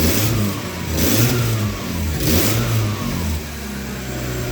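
Mazda Miata with a makeshift cold air intake revving in several short throttle blips, pitch rising and falling in a loose rhythm over a steady idle, close and fairly loud.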